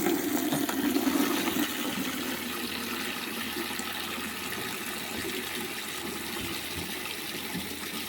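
Water gushes and pours steadily for horses at a morning feeding, a continuous splashing rush that is loudest at the start and then settles into an even flow.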